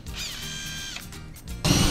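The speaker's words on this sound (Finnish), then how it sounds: "Onpa hyvää poraa." A power drill whirs steadily, its motor pitch sliding and wavering before cutting out, then a louder, rougher burst of drilling kicks in near the end.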